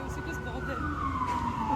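An ambulance siren wails with a gliding pitch that sweeps downward, heard under background chatter and ambient noise on a New York street.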